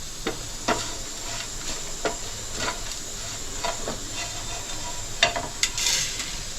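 Dried coconut being warmed and dry-roasted in a pan for a mutton sukka masala, with a steady hiss and faint sizzle and a series of scraping stirs at irregular intervals, close by, with no talking.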